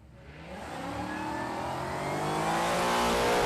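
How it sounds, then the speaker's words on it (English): Supercharged Mustang nitro funny car on a drag racing run at Palmyra Dragway, a loud roaring engine that builds steadily in intensity, heard from the track side with no talk. "Supercharged Mustang."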